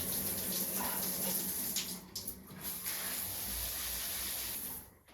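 Tap water runs steadily into a container to cover food left soaking, a continuous close hiss and splash that fades out at the very end.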